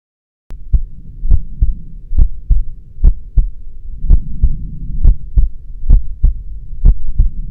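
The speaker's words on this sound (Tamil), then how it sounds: "ஏன் நம்ம ஹார்ட் பீட்லாம் ஸ்பீடாக துடிக்குது?" A fast heartbeat sound effect, loud, evenly spaced thumping beats, about two per second, repeating steadily for several seconds after a brief silence, with no voices.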